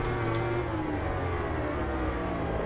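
A Yamaha R1 motorcycle engine in the racing video game RIDE 2 drones steadily throughout, a continuous rumbling whine with slight pitch shifts, fairly faint and unbroken, with no talking.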